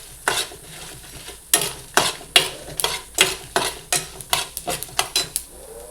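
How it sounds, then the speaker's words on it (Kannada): Cumin seeds fry in oil for a mixed vegetable sambar: a spoon repeatedly clacks and scrapes against the pan in a loose, irregular rhythm over a soft sizzle. "ಇದು ಫ್ರೈ ಆಗಲಿ. ಹಾಗೆ ಅದಕ್ಕೆ 1 ಸ್ಪೂನಷ್ಟು ಜೀರಿಗೆ ಹಾಕ್ತಾ ಇದ್ದೀನಿ."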